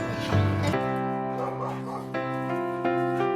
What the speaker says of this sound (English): they dashed toward him with wagging tails and excited barks